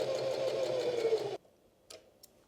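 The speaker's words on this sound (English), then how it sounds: "First stitch on my new machine." A brand-new home sewing machine makes its very first stitches, a fast steady run of mechanical ticking and whirring that stops abruptly, followed by a couple of faint clicks in the quiet.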